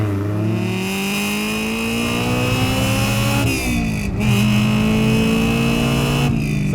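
Toyota AE86 Trueno with a swapped-in naturally aspirated high-revving Honda engine, droning loudly up through the rev range with steady harmonic whine, shifting pitch at gear changes and climbing again, close and continuous with no talk.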